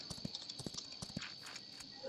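A horse gallops in the BGMI mobile battle royale game, its hooves clip-clopping in a quick, uneven rhythm of sharp thuds at fairly low volume over a faint steady background tone.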